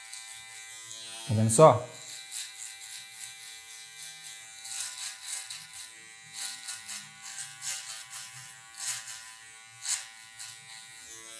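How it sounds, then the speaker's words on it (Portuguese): An electric hair trimmer cuts afro hair to shape a mohawk, giving a steady, close buzzing hum with a brief thump near the start while someone talks over it. "E com a máquina de acabamento também"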